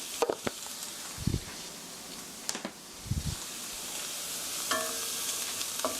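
Green onions and chili powder stir-frying in a pan for a Korean pork rice bowl, a soft steady sizzle with a few louder spatula scrapes and stirring knocks, close by, no talking.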